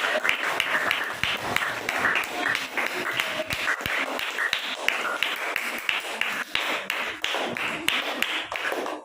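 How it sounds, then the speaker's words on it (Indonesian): Classroom applause from students for two classmates about to present, many small hands clapping quickly and unevenly for several seconds, close and continuous. "kita beri tepuk tangan dulu untuk Rehan dan Rehan"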